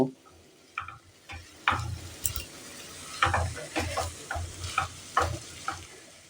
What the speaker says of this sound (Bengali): এবার এটাকে ভালো করে একটু সবগুলোর সঙ্গে মিশিয়ে দেব